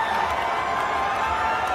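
Steady crowd roar from spectators at a ONE Championship fight in Thailand, a continuous cheering wash with no breaks, heard at a distance.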